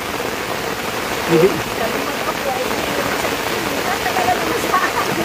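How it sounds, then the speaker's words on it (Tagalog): Heavy typhoon rain pours down steadily as a dense, even hiss that stays loud and unbroken, with a brief voice cutting in over it. "Patilain lang natin itong malakas na ulan."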